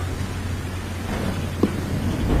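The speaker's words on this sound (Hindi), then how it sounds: "अचानक से जंगल में तेज बारिश शुरू हो जाती है।" Heavy rain falls in a forest at night as a dense, steady hiss with a low rumble beneath it and one brief knock partway through.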